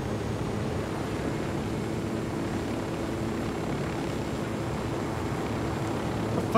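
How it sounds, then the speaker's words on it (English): Helicopter in the video game Ghost Recon Wildlands, a steady droning rotor and engine roar that holds at an even level throughout, with rain or spray noise mixed in and no talk. "your helicopter's throwing waves of fucking water"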